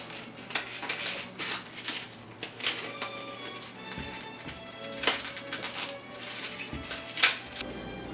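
Duct tape is pulled and wrapped around cardboard costume pieces, a string of sharp ripping and crackling tears with irregular taps and rustles, close by and without talk.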